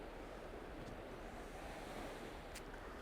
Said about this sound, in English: it probably is just the waves that are currently coming in